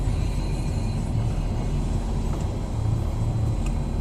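Car driving on a road, heard from inside as a steady low engine and tyre rumble that stays loud and even throughout.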